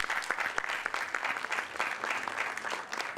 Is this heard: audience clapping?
yes